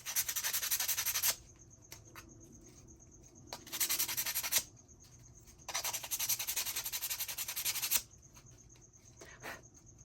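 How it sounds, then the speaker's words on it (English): Sandpaper rubbed over the beak of a crackle-painted chicken figure in three bursts of hissing sanding, about a second or more each, with quiet gaps between them. No one speaks. "we definitely want to sand our little beak here"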